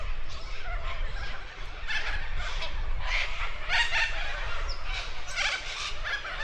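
Many black water birds call at a lake in Nhill, Victoria, Australia, a steady chorus of honking, gobbling cries at moderate distance over outdoor ambience.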